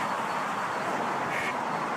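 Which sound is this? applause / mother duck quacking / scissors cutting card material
mother duck quacking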